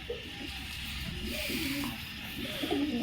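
Breeding pigeon pairs with chicks coo softly in low, repeated throaty phrases, several short calls close by over a faint background hiss.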